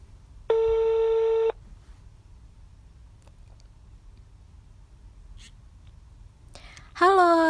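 Telephone ringback tone while placing a call: one long steady electronic ring burst, then a quiet pause with faint rustles before a second ring starts at the very end.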